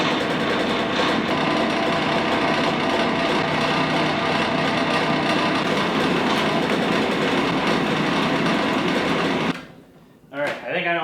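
A cheap Alibaba rock crusher fitted with a bigger third-horsepower motor runs with a loud, steady mechanical roar and clatter for about nine seconds, then cuts out abruptly, leaving near silence and a brief voice.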